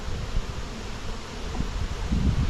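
Wild honey bees hum and buzz around freshly cut comb from a bee tree, a continuous close drone with rustling and handling noise.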